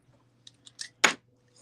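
Scissors snip through card in a few faint, quick clicks that build to one sharper, louder cut near the end, close up and quiet.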